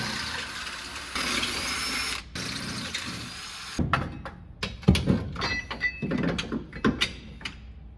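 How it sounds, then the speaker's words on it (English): A power drill whines in short bursts drilling holes in the frame of a 2003 Ford Excursion, followed by metallic clunks, rattles and tool handling sounds nearby. "And mark those holes and drill them out."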